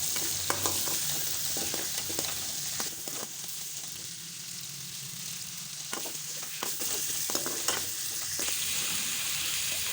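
Chicken fries in a pan with a loud, continuous sizzle and crackle, heard close. Scraping and stirring strokes come at irregular intervals over the steady hiss, and no one speaks.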